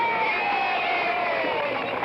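A large crowd of well-wishers and newsmen cheering and calling out together as a continuous, dense roar, with a high whistling tone running through it.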